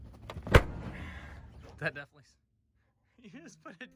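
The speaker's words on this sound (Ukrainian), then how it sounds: "ми тут знайшли кращий спосіб ними гепнути" A heavy Toyota Hilux pickup truck door slams with a loud thud, followed by rattling and a voice, then brief talk after a pause.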